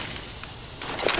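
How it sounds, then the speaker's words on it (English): A flashbang grenade is thrown in a Wingman match on Vertigo, heard as a short, quiet whip-like swish that swells slightly at the end of a brief moment. "Deploying flashbang."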